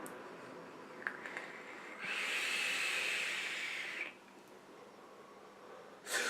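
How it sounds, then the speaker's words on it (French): Vapour from an e-cigarette is exhaled in one long, steady hiss of about two seconds, close to the microphone, with quieter breathing before and after and a short puff at the end. "On fait une très belle vapeur."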